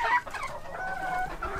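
Hens clucking close by in a farmyard, a steady run of throaty clucks and drawn-out calls with no voices over them.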